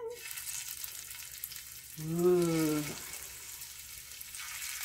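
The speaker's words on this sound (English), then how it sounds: "Listen to that sizzle." Meatballs sizzle and fry steadily in hot olive oil in a pan, a soft crackling hiss throughout, with a brief exclaiming voice in the middle.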